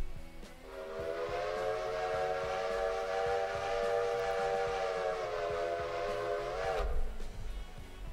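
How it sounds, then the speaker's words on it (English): A diesel locomotive horn in the train game Railroader sounds one long, sustained chord of stacked tones that holds for about six seconds and then bends off, over a rhythmic rumbling engine, with no talk. "I've got the horn situated. Let's see, get a little demo real quick."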